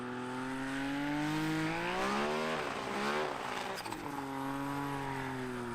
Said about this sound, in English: A little bit of an engine burble for Steve Henry.